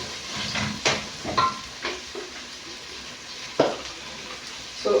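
Onions frying in a pan on a home kitchen stove, giving a steady soft sizzle with a few sharp crackles and stirring clicks scattered through it, close and moderately loud, no voices.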